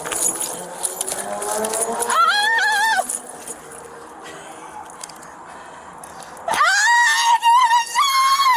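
A wounded police officer who has been shot screams in pain, with two loud, strained, wavering cries separated by a quieter stretch of muffled commotion. The cries are close and harsh, with chaotic background noise throughout.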